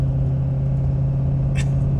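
A truck engine idles at a cold vintage snocross race after running for hours, a steady, close, low hum that holds even throughout, with a brief hiss rising over it near the end.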